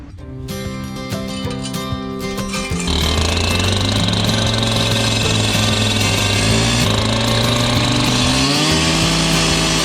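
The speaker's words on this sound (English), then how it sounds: "I'm going to get my disc cutter out and cut some nice cuts" A disc cutter cutting bricks for a garden wall builds to a loud, steady, high whine after a few seconds and holds it without a break to the end.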